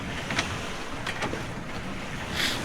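Sailboat beating to windward under full sail in about 14 to 15 knots of apparent wind on flat seas off Orkney, with steady wind and water rush and a few brief louder splashes, no talk.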